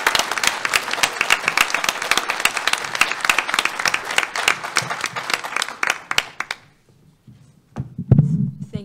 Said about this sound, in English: Let's give her another big round of applause for inspiring all of us today.